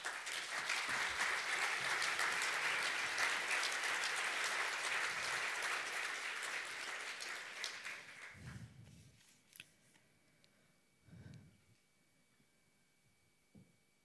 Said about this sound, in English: I think this is a big applause for Alzheimer Europe and all the people of us who are working